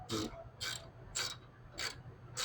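A ratchet clicks five times in an even rhythm while loosening a bolt on a Cummins 5.9 cylinder head, each stroke a short close metallic burst over a low background.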